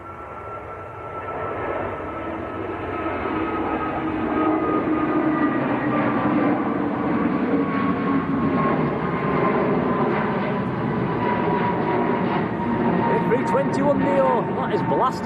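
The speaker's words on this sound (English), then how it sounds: "A321neo, that is blasting out of here" An easyJet Airbus A321neo jet takes off at Manchester Airport, its engine roar building steadily and loud, with a rising whine, under continuous talk.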